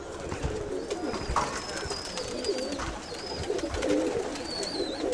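Pigeons cooing inside their loft among racing birds, a steady murmur of soft rolling coos with scattered wing and foot noises, fairly close and continuous, with no talk.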